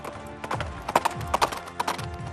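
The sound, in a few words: mare's hoofbeats clip-clopping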